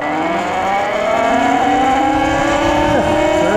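Talaria MX5 electric dirt bike ridden in eco mode, a steady motor whine with rising and shifting tonal lines over continuous road and wind rumble, close and loud throughout.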